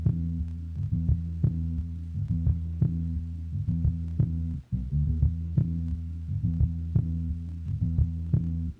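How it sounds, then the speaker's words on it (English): A filtered bass loop played from a sequence on an MPC Live 2, with a low, muffled, throbbing bass riff repeating steadily in short pulses and a brief dropout midway, heard alone. "So I'm going to go here to my sequence 3 where there's my filtered bass loop."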